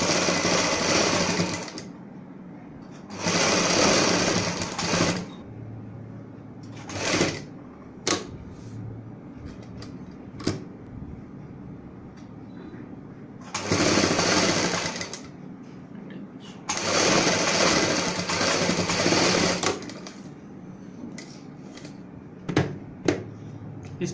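Sewing machine stitching along marked lines over a strip on a blouse back, in several loud bursts of steady running with pauses and small clicks between.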